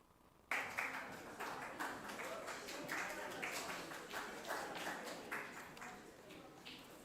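Audience applause breaks out at an Everest Day 2026 event after a Nepali song performance, a loud, sustained wash of clapping that starts abruptly and holds steady with dense overlapping claps.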